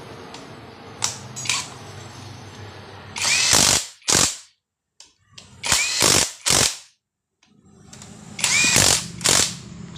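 Ratchet tightening bushings on a Pinoy 125 motorcycle engine during assembly: several short bursts of rapid clicking ratchet strokes, close and fairly loud, separated by brief silences.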